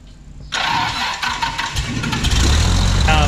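Piper Cherokee 235 aircraft engine cranking and catching after a short quiet moment, then settling into a loud, rough, steady running roar close by.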